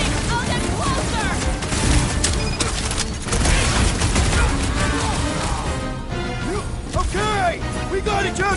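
Gunfire and crashing impacts from a Guardians of the Galaxy battle, in a dense, continuous barrage mixed with music and effects while people shout over it.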